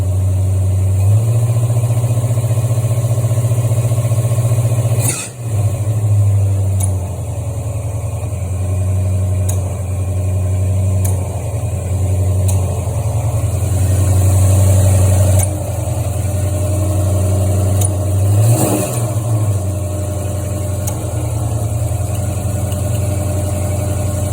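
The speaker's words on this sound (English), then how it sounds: "I'm going to have her tap the throttle to drop the idle speed cam." A 1973 Ford Mustang Mach 1 V8 with a Holley 750 CFM four-barrel carburetor idles loud and close with a deep, steady rumble, broken by a couple of brief throttle taps that shift the engine note.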